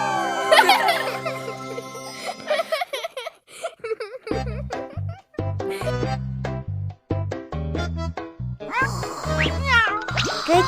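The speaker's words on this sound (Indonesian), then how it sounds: "Kucing," Cartoon cat meows in a Baby Bus animal care video game, a few short mewing calls mixed with jingly chimes and bouncy game music.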